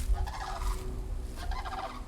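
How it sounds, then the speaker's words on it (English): Wild turkeys gobble in a couple of rapid, warbling bursts at moderate distance, with a low rumble of outdoor background underneath and no talking. "Oh, some wild birds."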